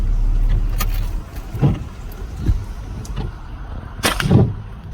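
A pickup truck idling in the rain, a low steady engine rumble underneath with several sharp thumping impacts spaced across the clip.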